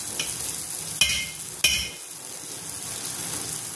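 Mixed lentil appe sizzle in oil in an appe pan, a steady bright frying hiss broken by two sharp metallic clinks of a utensil against the pan.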